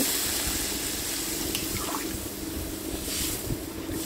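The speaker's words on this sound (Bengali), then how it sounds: "এবার একটু গরম জল দিয়ে দেব।" Hot water poured into a pan of egg curry makes a steady, dense hiss and rush that fills the whole moment, fairly loud and close, with no voices over it.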